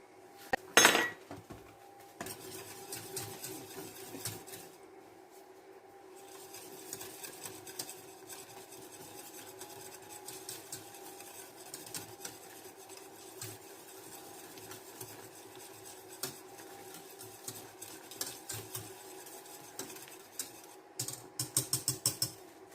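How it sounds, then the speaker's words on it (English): A whisk beats cassava flour thickener into a simmering mixture for a sourdough Dutch baby, with a steady, rapid clicking and scraping against the pan throughout and a faint background hum. "And then we're going to whisk it real good."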